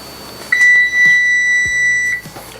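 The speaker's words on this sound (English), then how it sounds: "that sound means that our toast process should be good to go" An oven timer gives a single sustained electronic beep with a brief dip partway through, loud and close in a home kitchen, with light clatter around it.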